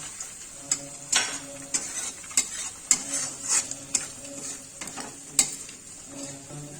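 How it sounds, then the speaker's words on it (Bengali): Dry soybean chunks, patted dry with a cloth, sizzle in hot oil in a pan while a spoon stirs them, with steady scraping clicks against the pan over a continuous frying hiss, close and without speech. "এবার আমি সোয়াবিনগুলো দিয়ে দিচ্ছি এই তেলের মধ্যে"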